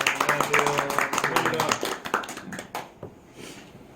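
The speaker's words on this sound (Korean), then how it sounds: "참가해주신 조국재 감사님께도 큰 박수 부탁드리겠습니다." Scattered clapping from attendees at a small software company's annual shareholders meeting, a thin cluster of claps that tapers away within a few seconds and leaves a quiet room.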